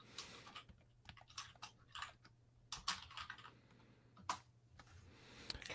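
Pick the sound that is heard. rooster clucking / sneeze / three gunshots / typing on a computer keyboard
typing on a computer keyboard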